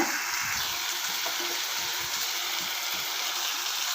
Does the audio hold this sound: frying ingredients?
yes